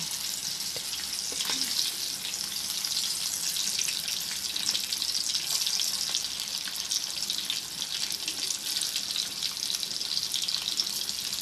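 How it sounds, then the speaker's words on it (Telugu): Pieces of boiled egg frying in hot oil for a Telugu gongura egg pachadi, a steady dense sizzle and crackle that stays close and even throughout, with no talking. "ఆయిల్ హీట్ అయ్యాక ఈ ఎగ్స్ని ఆయిల్లో వేసుకుందాం."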